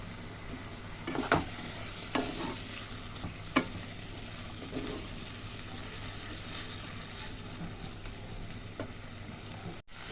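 Chopped spring onion stalks fry in spiced oil for a Bengali fyasha fish curry: an even, close sizzle holds throughout, broken by a few soft stirring scrapes and taps. No voice is heard.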